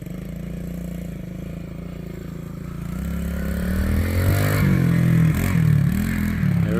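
Kawasaki KLX 110 dirt bike, restored after sitting for years, ridden close by, its small engine droning steadily and then revving higher and louder as it pulls away, with clattering underneath.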